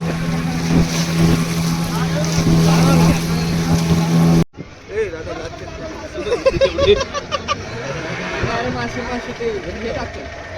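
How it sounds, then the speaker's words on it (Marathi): A motorboat carries a group out to a scuba diving site, its engine droning loudly for the first few seconds before cutting out, leaving wind, water and chattering voices. "आपली बोट रेडी आहे."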